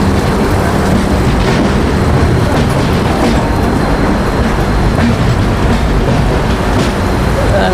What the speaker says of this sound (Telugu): మన ట్రైన్ అయితే స్లోగా వెళ్తుంది